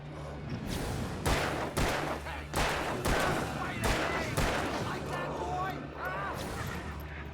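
Gunfire in the Alan Wake video game: a string of sharp, loud shots lands irregularly over several seconds amid a dense bed of game noise and what sounds like voices.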